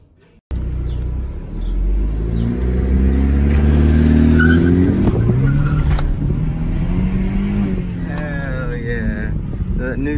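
A BMW F30 on new rims revs its engine hard, a loud, close roar that climbs and sustains with rising pitch sweeps and a rumbling edge, while voices talk and shout over it.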